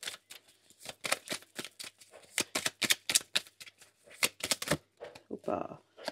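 Tarot cards riffled and flicked down one after another into a cross spread, a brisk run of sharp papery snaps and shuffles close by, broken by short pauses.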